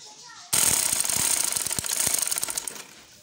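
A sewing machine stitches fabric for a twist turban hijab cap, starting abruptly and running as a loud, close, rapid rattling chatter with uneven bursts before easing off near the end.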